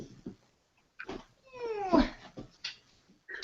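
A pet cat lets out a drawn-out, sliding meow in the middle, preceded and followed by short squeaky chirps and mews, close by, with faint handling noise and no clear speech.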